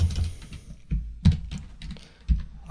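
Computer keyboard keys are pressed in a few scattered, soft clicks and thumps at close range in a quiet room, with pauses between presses.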